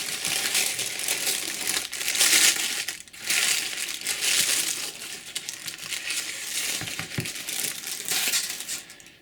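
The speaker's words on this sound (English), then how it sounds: "Take the tissue paper off." Tissue paper being pulled off packing polystyrene and crumpled, close crackling and rustling in irregular bursts with brief pauses between handfuls, no voices.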